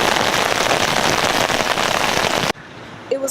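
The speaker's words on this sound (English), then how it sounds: "It is raining again" Steady heavy rain pours down in Tokyo, a loud dense hiss of drops hitting surfaces that cuts off abruptly near the end, leaving quieter background with a brief faint tone.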